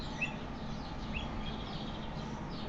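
Birds call at a zoo in Bitola, North Macedonia, a few short chirps and whistles rising over a constant low rumble of background noise.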